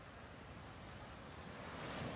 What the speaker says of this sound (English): We are going to start and end this journey with the sounds of the ocean